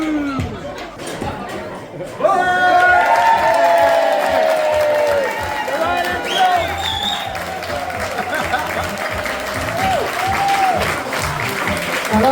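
A live podcast audience in East London erupts in sustained cheering, applause and whoops, loud and crowded, with a host's voice over the crowd noise.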